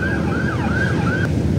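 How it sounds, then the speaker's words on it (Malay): Ambulance siren wailing past on a street beside a parked Proton Saga 1.5 MC3, a steady rising-falling tone over a constant traffic rumble, fairly loud and alone with no voices. "Tadi ada ambulans lalu."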